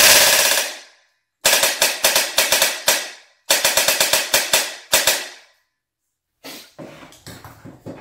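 Airsoft rifle with an amplifier fitted on the back firing loud, close full-auto bursts of rapid cracks, separated by brief silences, the last burst quieter.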